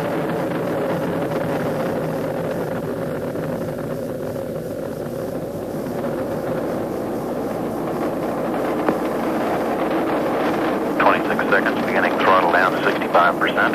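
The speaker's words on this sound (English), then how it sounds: "Liftoff of Atlantis. A new orbiter joins the shuttle fleet and it has cleared the tower." Space Shuttle Atlantis on its first launch lifts off and climbs away from the tower, a continuous distant rumbling roar that grows rougher and more crackling toward the end, with faint voices in the background.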